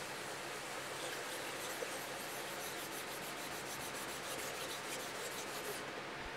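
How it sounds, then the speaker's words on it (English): Oil being rubbed by hand into the wooden finish on the top of a box, a steady, close, soft dry rubbing hiss that runs continuously without any talk. "I basically just rubbed that oil straight into the finish"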